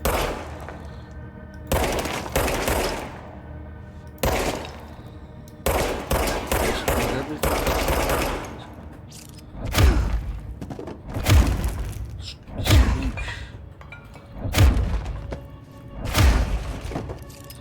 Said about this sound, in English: Shoot the Rolodex.